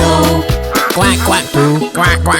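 Sung imitation of duck quacks in a Polish children's farm nursery rhyme, a voice repeating the quack in rhythm over bright backing music.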